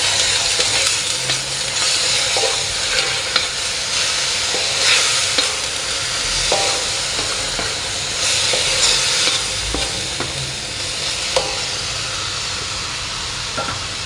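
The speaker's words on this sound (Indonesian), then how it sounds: "Kecap manis secukupnya saja. Kemudian kita aduk." Fried noodles with sweet soy sauce get stirred in a hot pan, a steady sizzle and hiss with scraping stir strokes and soft clinks throughout, close and fairly loud with no talking.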